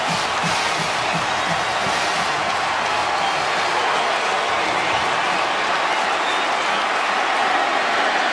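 Roaring stadium crowd at the Georgia Dome cheering for Georgia after an 80-yard touchdown run against Boise State in 2011, a continuous loud wall of cheers and applause.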